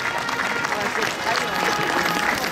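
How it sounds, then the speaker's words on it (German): Audience applause at an outdoor horse market after a two-horse carriage team of Freiberger horses is shown, a steady wash of clapping from a crowd that continues evenly throughout. "Einmal Ihr Applaus hier für das wunderschöne Gespann von Tobias Meyer"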